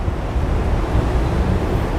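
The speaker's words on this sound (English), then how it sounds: "Really windy." Strong wind roars continuously against the microphone, a loud, low rumbling buffet with a hint of surf beneath it.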